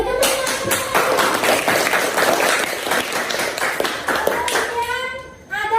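Children in a classroom clap their hands together in a dense, sustained burst of applause, loud and close, with young voices mixed in before it fades near the end.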